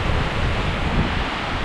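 Strong mountain wind in the Tatras buffets the microphone in a steady, roaring broadband rush that lasts the whole moment with no voices.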